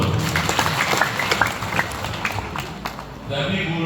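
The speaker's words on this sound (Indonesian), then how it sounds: "Tepuk tangan dulu." Crowd applause at an Indonesian gathering, a busy wash of clapping mixed with voices and murmur, fading slightly before a louder rise near the end.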